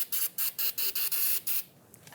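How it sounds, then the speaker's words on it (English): Copper spray hissing onto the face of a rear brake rotor on a Ford Expedition, about seven quick, close bursts in a regular rhythm before fading to quiet. "I'm going to spray the face of the rotor with a little bit of copper spray."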